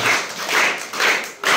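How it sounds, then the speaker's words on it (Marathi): Students applaud at a school event in Goa where school bags are handed out, a steady crowd clapping that swells in several waves over a couple of seconds, fairly close and lively. "टाळ्या वाजवा।"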